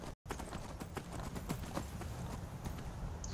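Hooves clip-clop in a steady, brisk rhythm as a horse travels over ground in the video game Skyrim, close and continuous for a few seconds with no talking.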